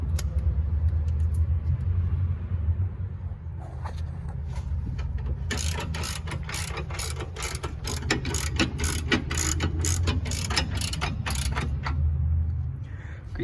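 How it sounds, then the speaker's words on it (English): A 21 mm wrench ratchets a suspension nut on a 2007 Dodge Charger R/T. A rapid run of metallic clicks sounds up close over a low mechanical rumble, with no talk. "I'm gonna use a 21 millimeter wrench."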